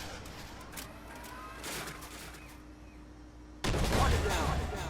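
A T-90 tank's main gun fires in Armored Warfare, a single heavy blast breaking in abruptly near the end after a stretch of low engine rumble and quieter distant battle noise, loud and close.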